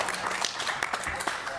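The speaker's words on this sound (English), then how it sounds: "You don't have to clap." An audience at a board briefing claps briefly, with a spread of close, sharp hand claps mixed under a speaker's voice.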